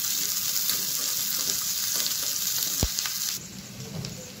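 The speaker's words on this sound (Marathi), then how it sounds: "कांदा आणि काजू तळून झालेले आहेत" Onion and cashews fry in a pan with a steady, close sizzle, briefly interrupted by a stirring knock before the sizzle softens.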